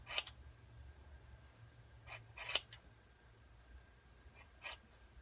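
Scissors cut through a synthetic lace front wig in a handful of short, crisp snips, close up and spaced irregularly over quiet room tone, with no talking.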